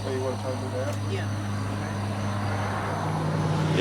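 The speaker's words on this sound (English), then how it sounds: "Sorry about the road noise, nothing we can do." Steady, unbroken rumble of road traffic from a nearby major road fills the background at even loudness throughout, with faint voices underneath.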